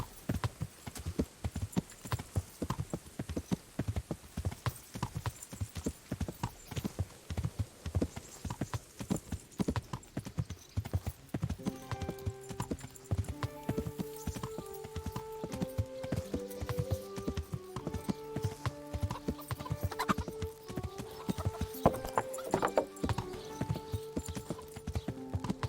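A horse's hooves clip-clop in a steady, continuous rhythm in the medieval video game Kingdom Come Deliverance, fairly close, with music rising beneath the hoofbeats partway through.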